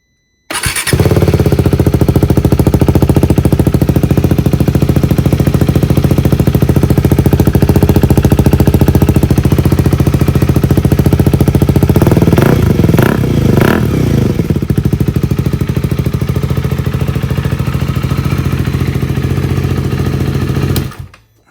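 A 2023 KTM 390 Adventure single-cylinder engine idles steadily with a newly installed aftermarket exhaust, close and loud, with a few sharp throttle blips midway before it shuts off.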